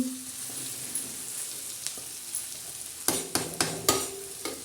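Okra stuffed with peanut powder cooks in a pan, giving a soft steady sizzle, then a few quick stirring scrapes and clinks near the end.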